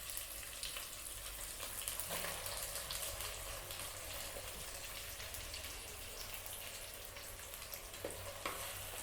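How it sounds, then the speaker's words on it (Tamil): Plantain pieces fry in oil for a Tamil plantain gravy, giving a steady, soft crackling sizzle with occasional small pops, and no voices. "வாழைக்காய் சேர்த்து நல்லா ஒரு 2 நிமிஷம் எண்ணெயில் வதக்கி விடுங்க."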